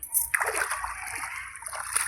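Cold water splashes and trickles out of a pot at a temple in a forest, a short close burst of sloshing with a brief pause before it resumes.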